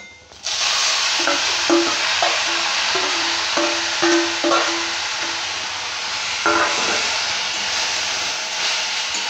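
Boiled water spinach and dried chilli hit a hot pan in a Bengali prawn and greens dish, bursting into a loud hissing sizzle followed by a run of stirring scrapes and taps.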